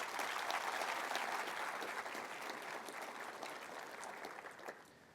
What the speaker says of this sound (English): A big round of applause to our scholars.